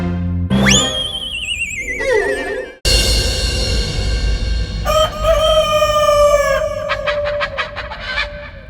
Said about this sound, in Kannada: ಇವತ್ತು ಅದೇ ದಣಿಮಣಿ, ಅದೇ ರೂಪವತಿ ಕೋಳಿನ ನಿಮಗೋಸ್ಕರ ತಂದಿದೀವಿ.